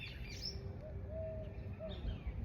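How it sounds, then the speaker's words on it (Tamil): Small birds, sparrows outdoors on a farm, give a few faint, thin chirps and short whistled calls, distant over a low steady background rumble. "குருவி பறவைகளை சத்தம் கேட்குதா"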